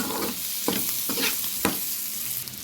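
Loud, dense sizzling of potatoes frying in a pan, broken by a few scraping stirs, with no one talking.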